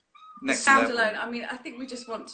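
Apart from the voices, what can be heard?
kitten meowing in the background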